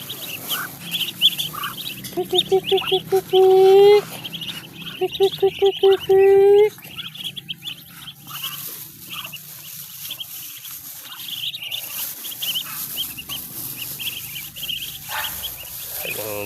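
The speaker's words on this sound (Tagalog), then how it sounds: "sumasalubong na po ang aking mga alagang bibi" Pet ducklings on a small duck farm give two bursts of rapid, high, repeated calls close by. Someone talks before and after the calls, and faint chirps and farm noise continue underneath.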